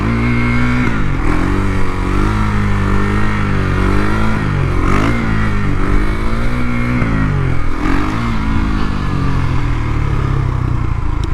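KTM Duke 390 motorcycle fitted with a 56-tooth rear sprocket, accelerating hard in second gear as the front wheel lifts going downhill; a loud, close engine note climbs and dips continuously through the whole stretch with no talk.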